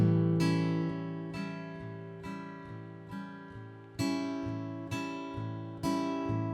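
A guitar riff, sharply picked chords and notes, played close and clear in a steady rhythm with short gaps between strikes.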